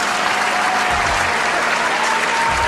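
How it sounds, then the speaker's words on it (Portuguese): Applause for mothers on Mother's Day, a loud, dense wash of clapping from a crowd that runs continuously for the whole stretch. "E para você, que é mãe, uma salva de palmas"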